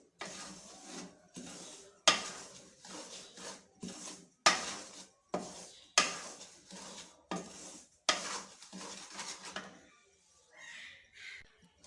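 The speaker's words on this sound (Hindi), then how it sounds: "अभी हम 1 किलो इसमें सूजी ऐड कर देंगे और उसको हमने हल्का सा फ्राई कर लेना है।" A spoon scrapes and stirs a kilogram of semolina as it dry-fries in a kadhai, about a dozen sharp rhythmic strokes against the metal, close and loud, with short pauses between them and no talking.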